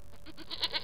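A goat gives one brief, nasal bleat close by, a quick wavering cry under a second long.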